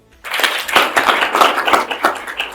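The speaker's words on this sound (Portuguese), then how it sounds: "Uma salva de palmas, por favor." A small audience at a business breakfast event bursts into brief applause, a sudden run of close, uneven hand claps that starts abruptly and patters on for a couple of seconds.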